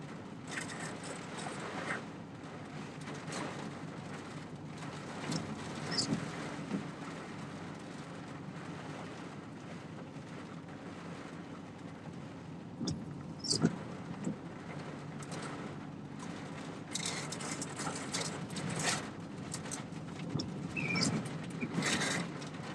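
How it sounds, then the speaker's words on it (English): Strong gusts from Hurricane Helene roar steadily outdoors in a broad, rushing wash that swells and eases over about twenty seconds, with buffeting bursts and a few sharp knocks; no one speaks. "Still getting some pretty good gust over here."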